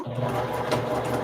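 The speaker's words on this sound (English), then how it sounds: "Does your sewing machine ever make you jump?" A sewing machine runs steadily at close range, a continuous mechanical hum and rapid rattle that carries on with no pause.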